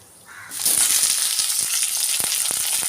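Onion and green chilli hit hot oil in a pan for a potato bonda snack, bursting into a loud, steady close-up sizzle that starts abruptly and holds with faint crackles throughout.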